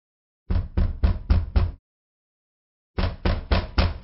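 Knuckles rap on a wooden door in two quick bursts of about five knocks each, loud and close, with a short silence between them.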